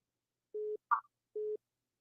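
An incoming call on a phone line sounds as two short steady tones separated by a brief blip, fairly quiet and alone.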